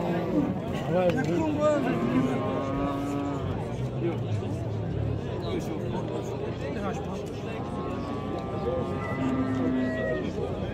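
Cattle at a livestock market in Uyali give long, drawn-out moos, several overlapping near and far, over a constant din of crowd chatter and people talking.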